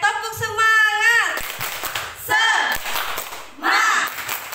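A group of women ends an event with a rhythmic spirit clap, sharp bursts of clapping alternating with shouted chanting voices, close and loud.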